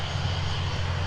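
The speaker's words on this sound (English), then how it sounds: "And 298, having pushed back, lined up to taxi towards our direction to depart runway 12 right." A jet airliner taxis toward runway 12 Right at Minneapolis–St. Paul airport, its engines giving a steady, loud low roar with a constant hum and no break across the short stretch.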